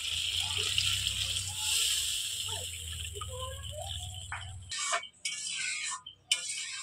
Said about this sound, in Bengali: আর অল্প একটু জল দেবো